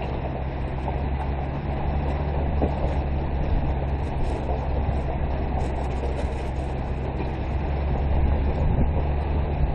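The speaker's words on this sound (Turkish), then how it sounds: "Şey, yan taraftan tren geçiyor." A train rolls past alongside a rail-side logistics area near a bridge, a steady low rumble of railcars sustained throughout, fairly close and continuous with no talk.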